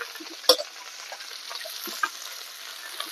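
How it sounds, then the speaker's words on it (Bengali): Potatoes and bitter gourd fry quietly in a pan, with a soft sizzle, occasional scrapes of a stirring spoon and one sharp clink near the start. "আলু আর উচ্ছেটাকে আরেকটু ভেজে নেব"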